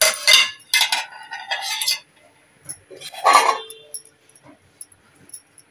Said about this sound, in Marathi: आता मी झाकण काढून बघते